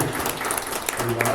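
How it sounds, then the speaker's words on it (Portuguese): Audience applauding after a talk, dense clapping with voices mixed in, loud and close across the whole moment. "Uma salva de palmas para o Leonardo, por favor."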